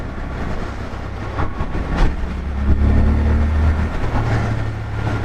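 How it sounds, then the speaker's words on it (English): A Triumph Scrambler 1200 XC twin-cylinder motorcycle engine runs steadily up close as a low rumbling drone with a slight rise in revs midway, heard alone without speech. "Beautiful engine though. I forgot how much I love these Triumph twins."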